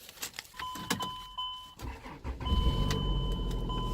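A Corvette at a Copart auto auction is started after sitting: keys jangle, the starter cranks, and the engine catches into a steady, slightly rough idle, close and fairly loud.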